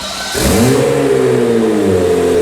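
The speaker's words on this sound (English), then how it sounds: "Fresh build, you fire it up, try to rev it, and then you check all the safety stuff." A 2026 Dodge Charger drift car on a fresh build fires up with a sharp start, then its engine revs loudly and settles into a rising and falling mid-pitched roar close by.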